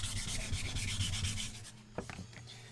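Rhythmic back-and-forth hand wet sanding of an aluminum compressor housing rasps steadily, then stops, followed by a few light knocks and handling sounds.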